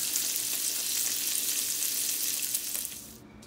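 Chorizo fries in a pan on the stove for breakfast burritos, giving a dense, even sizzle close by that fades down near the end.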